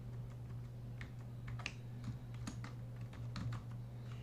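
Computer keyboard keys clack in quick, irregular bursts of taps over a low steady electrical hum, close but quiet, with no voice.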